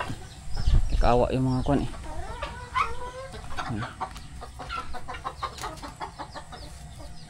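Pet chickens cluck noisily while they feed, with a loud burst of fowl calls near the start and then scattered clucks and chatter, all under someone talking.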